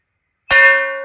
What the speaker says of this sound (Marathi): ही आहे शालीची घंटा